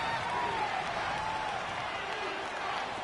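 Stadium crowd noise in a football video game, a dense steady roar of home fans at a constant level, broad and washy, with no clear individual voices.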